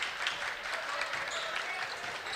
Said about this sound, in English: And off bench, clapping for their defense.